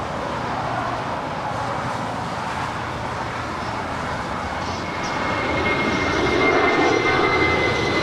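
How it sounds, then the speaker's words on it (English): Twelve-year-old Spirit Airlines Airbus A320 departing LAX for Dallas Fort Worth, a broad jet engine roar that swells louder toward the end as the aircraft climbs out, no voices. "Spirit 471 departing to Dallas Fort Worth. It's a 12-year-old Airbus A320."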